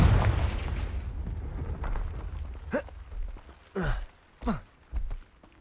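The Confringo fire spell in Hogwarts Legacy: a big booming explosion that fades, then a few shorter, sharp blasts in an uneven sequence.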